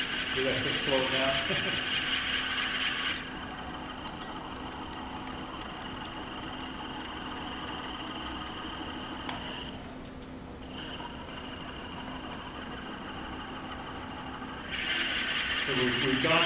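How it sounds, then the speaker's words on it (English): A wood drill bit now cuts its full diameter through a honey pot blank, producing a sustained, even grinding whine that slackens briefly midway and swells again near the end, with speech overlapping at times. "So now it's cutting the full diameter of this drill bit."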